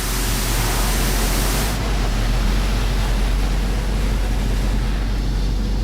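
Soap sprayed over a Ford Mustang with large glass windows, heard from inside the car as a steady, dense hiss that drops slightly in brightness partway through and then continues unbroken.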